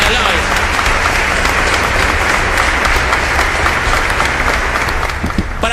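A church congregation applauds loudly and continuously, dense clapping filling the hall, with a voice faintly audible beneath it.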